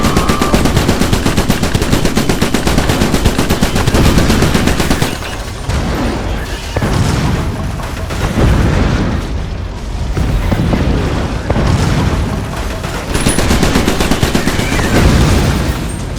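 Gunners in the Iron Brigade game fire with loud, continuous rapid machine-gun bursts mixed with heavy booms and explosions. The barrage runs dense for several seconds, thins briefly, then intensifies again.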